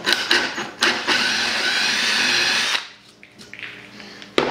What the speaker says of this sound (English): I'm going to drill a half inch hole most of the way down